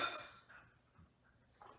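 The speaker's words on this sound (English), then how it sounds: "I'm actually just gonna get some of my extra sugar off of my spoon" A metal spoon is tapped against a bowl to knock off excess sugar while making a no-bake apple pie treat: a brief close clatter, then a few faint, soft taps in a quiet room.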